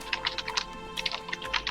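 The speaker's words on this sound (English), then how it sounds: "We hear you typing, Corey." Rapid clattering keystrokes on a computer keyboard come in two quick bursts separated by a short pause, close and fairly clear, with no talking.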